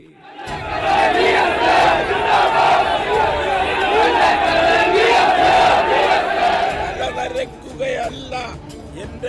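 A large political crowd roars and chants for V.S. Achuthanandan, a loud, sustained mass of shouting voices that swells steadily and eases slightly toward the end.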